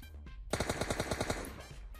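Gunfire in PUBG Mobile, a single rapid automatic burst of about ten closely spaced shots lasting roughly a second, loud and close after a short quiet lead-in.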